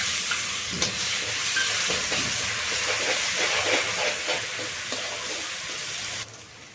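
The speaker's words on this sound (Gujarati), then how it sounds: "તો હળદરને આપણે એક મિનિટ સુધી આ રીતના હળહળવા દેશું" Turmeric and crushed chilies sizzle in hot oil for a Gujarati dry potato dish, making a loud, dense, continuous hiss close by that stops abruptly near the end, with no talking.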